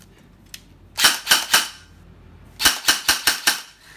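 An E&C 624 airsoft BB gun is dry-fired with no BBs loaded, giving sharp snapping reports in two bursts, three quick shots and then about six in fast succession, loud and close with no talking.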